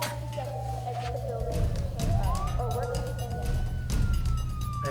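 Several police car sirens wail outside, gliding up and down over a steady low engine hum, moderately loud and continuous throughout.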